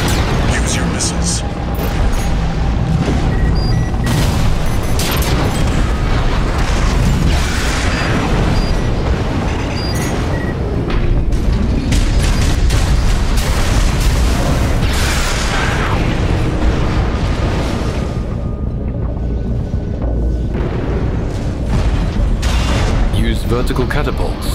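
Armored Core VI mech combat: loud, continuous barrage of missile launches and booming explosions with heavy rumble and mechanical clatter throughout, dense and sustained with a voice speaking over the din.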